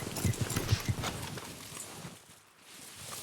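A horse's hooves clip-clop at a walking pace in Red Dead Redemption 2, fairly close, in a steady rhythm that fades out midway and then gives way to soft ambient noise.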